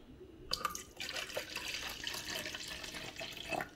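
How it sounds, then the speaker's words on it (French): Water is poured into a bowl in a home kitchen while a vegetable and tilapia sauce is being prepared, a soft splashing trickle with a few drips, fairly quiet and close. "Je vais rajouter un peu d'eau."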